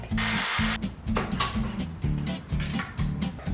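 Nails and screws being driven while a wooden clothes rail is built in a tiny Seoul apartment room: a long burst of high noise, then repeated rhythmic tapping and knocking, close and fairly loud, with no talking.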